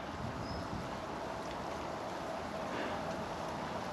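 Steady wind roars across the microphone as a constant rushing noise, with faint sounds of open water underneath at a small lake.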